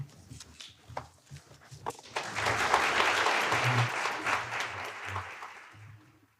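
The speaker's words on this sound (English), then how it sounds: "What a wonderful round of applause." Audience applause after a moot court argument: a few scattered claps and footsteps first, then a full sustained round of clapping swelling to a steady roar before fading out, with faint low murmurs underneath.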